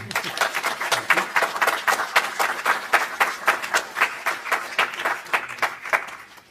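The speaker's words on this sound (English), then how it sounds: "So again, a warm round of applause, if you please, for Dr. Ed Kelly." An audience claps to welcome a speaker to the stage at a talk, a close, rhythmic patter of individual hand claps that stays steady for several seconds.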